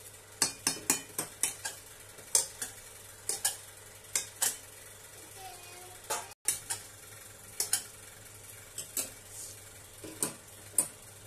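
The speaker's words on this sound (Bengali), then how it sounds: "এবার আমরা ভালো করে ওই বয়েল করা মটরটার সঙ্গে আলুটাকে মশলাগুলোর সঙ্গে মিক্স করে নেব ভালো করে" Boiled peas and potatoes with spices being stirred in a pan, a steady run of sharp spatula taps and scrapes over a faint sizzle, close and rhythmic, with no voices.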